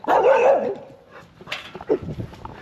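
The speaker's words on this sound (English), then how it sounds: "Hello, you're a cute dog." A dog gives a loud close bark and whimper, followed by a few softer yips and whines.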